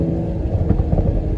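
An Aston Martin DBS Superleggera Volante in Sport Plus mode gives a steady, deep exhaust rumble from the road, loud and continuous with slight swells.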